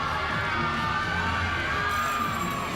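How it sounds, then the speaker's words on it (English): A gymnastics arena crowd cheers and shouts loudly and steadily after a big Tkachev release on the uneven bars, a dense sustained roar with whoops rising above it. "The crowd liked that big Tkachev that they saw."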